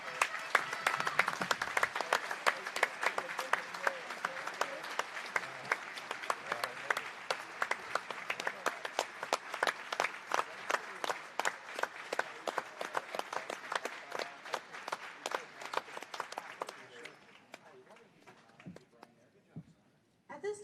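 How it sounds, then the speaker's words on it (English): A senior night crowd in a high school gymnasium applauds the seniors with sustained, dense clapping for about seventeen seconds before it thins out and fades. "Let's give them all a round of applause."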